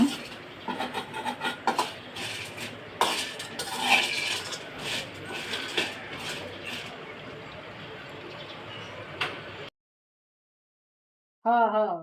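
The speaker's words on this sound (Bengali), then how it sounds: "এই তো চুলায় বসে একটু হালকা টালা দিয়ে নিচ্ছি।" Garam masala spices lightly roast in oil in a pan on the stove, with irregular clinks and scrapes of stirring. Then comes a sudden silence and a brief voice at the end.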